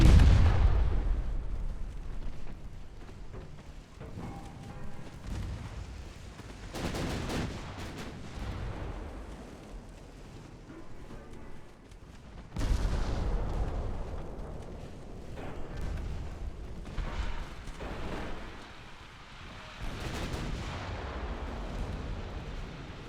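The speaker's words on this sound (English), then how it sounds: "secondary guns, you should be firing AP" Naval secondary guns in the warship strategy game Ultimate Admiral: Dreadnoughts fire in repeated heavy booms with rumbling tails, close and loud, spaced irregularly across the stretch amid a constant low battle rumble.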